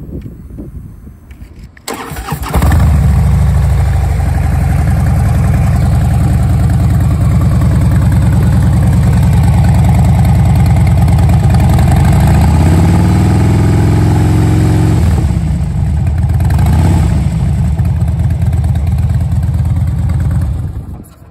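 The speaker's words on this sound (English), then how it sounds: "Screaming Eagle exhaust." A 2012 Harley-Davidson Dyna Wide Glide with Screaming Eagle exhaust starts up and settles into a loud, deep, lumpy idle that rumbles steadily close by, with a brief blip of throttle midway.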